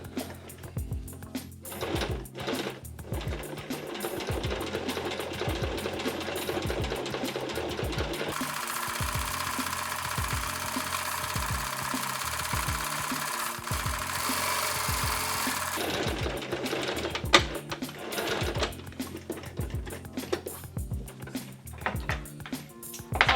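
A sewing machine stitches a simple tote bag in long steady runs, its motor whirring loudly with a rhythmic needle clatter that pauses briefly now and then before starting again.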